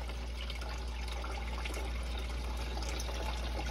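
Water flows steadily across a table carrying shiny pyrite bits, a continuous rushing wash with a low hum underneath and no speech.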